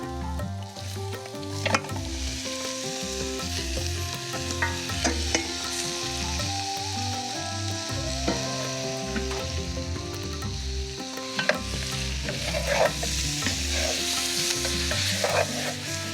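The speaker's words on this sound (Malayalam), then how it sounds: "ഇനി ഇതിലേക്ക് ഞാൻ ഇറച്ചി ഇട്ട് കൊടുക്കുകയാണ്." Duck meat sizzles in onion masala for a traditional Kuttanadan-style Kerala duck curry, a continuous frying hiss broken by repeated scraping stirs in the pan, with no talking.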